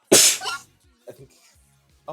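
One sharp, loud sneeze bursts out close to the microphone, followed by a few quiet spoken words.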